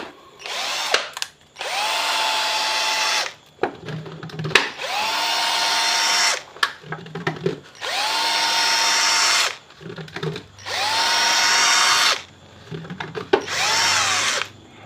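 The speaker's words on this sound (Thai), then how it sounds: "ใช้สว่านเป็นเครื่องทุนแรงครับ" An electric drill whirring in repeated bursts of about two seconds each, spinning up and stopping with short pauses between, close and loud.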